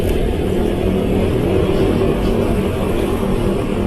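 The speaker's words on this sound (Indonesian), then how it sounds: "Suara knalpot juga mantap." Motorcycle exhaust roars steadily under a running engine, loud and close, a dense continuous rumble with no talk and no clear rises or falls in revs.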